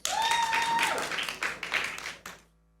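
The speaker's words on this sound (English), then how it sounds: "You can clap if you want." An audience at a magic show claps in a short, lively burst with a whistle near the start, the applause thinning into a few scattered claps before stopping.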